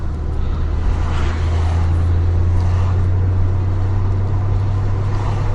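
A Mercedes E55 AMG climbs a hill, its engine holding a strong, steady low drone with road noise throughout and no talking.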